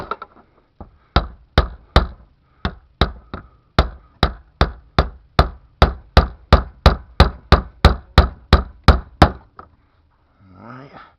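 Sharp metal hammer blows strike a car fuel pump, close and loud, more than twenty of them in a steady, quickening rhythm that pauses briefly and then stops, followed by a short spoken phrase.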